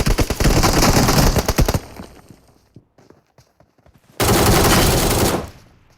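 Gunfire from the mobile shooter game BGMI: a dense rapid burst of automatic shots lasting under two seconds, a quieter stretch of scattered pops, then another sustained loud volley, all close and punchy.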